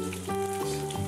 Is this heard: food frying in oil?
yes